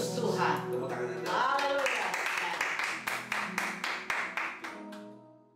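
A church congregation at a worship service claps hands in a steady rhythm, sharp claps running beneath sung or spoken voices and a sustained musical backing, with the clapping thinning out toward the end.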